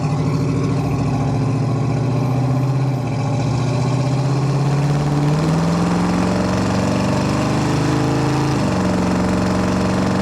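A 1968 Chevrolet C10 short-bed pickup engine drones loud and steady from inside the cab on a test drive, its pitch climbing smoothly, then dropping as a shift occurs.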